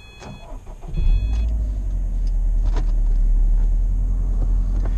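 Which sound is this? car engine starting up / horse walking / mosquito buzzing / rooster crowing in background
car engine starting up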